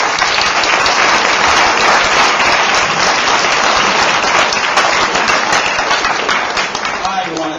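Sustained audience applause fills a hall after a speaker is introduced at a community peacemaking event, steady dense clapping throughout that thins slightly toward the end.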